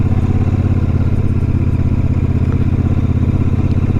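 A Royal Enfield Super Meteor 650 motorcycle ridden in fourth gear through a roundabout, its twin-cylinder engine giving a loud, even, throbbing thrum at steady revs, close up with no talk.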